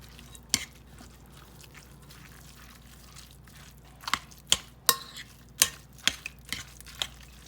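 Canned chicken and crushed pork rinds mixed by hand in a bowl for patties, soft squelching stirs with a few sharper scraping and clicking knocks toward the end, close and quiet.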